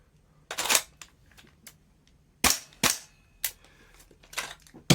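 A Tokyo Marui MWS gas blowback airsoft rifle fires several sharp, close shots at irregular intervals, each crack carrying the fast snap of the bolt cycling, with quiet gaps between.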